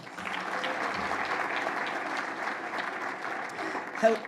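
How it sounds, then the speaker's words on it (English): Audience at a vision breakfast event applauding, a full, sustained wash of clapping for about four seconds, with a brief louder burst near the end. "Could we give them one more round of applause?"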